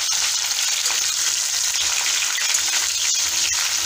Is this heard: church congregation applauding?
no